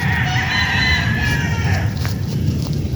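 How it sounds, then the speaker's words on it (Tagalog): Chickens at a game farm cluck in a continuous busy chorus close by, with roosters crowing through it and a steady outdoor din beneath the birds. "Sadyang quality po ang mga manok din dito sa MGM Game Farm"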